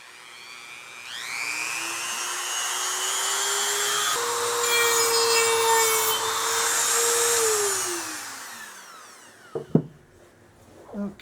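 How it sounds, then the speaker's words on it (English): A speed-controlled Dremel rotary tool grinding a part of a Crosman 760 airgun during restoration, giving a close high whine that spins up, rises and shifts in pitch as it cuts, then winds down and ends with a couple of clunks. "That's a Dremel with a built-in speed control, like typical modern moto tool."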